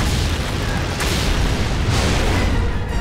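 Volcanic eruption of the Fire Mountain in an animated dinosaur film, a dense, continuous roaring rumble with heavy low booms that holds loud and steady throughout, with brief surges of blasting noise.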